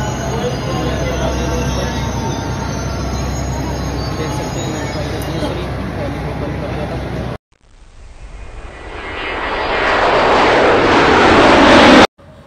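A crowded Delhi Metro train runs with a steady rumble and rattling carriage noise, then after a sudden break a rising high squeal and roar builds as the wheels grind along the track, loud and close from inside the car.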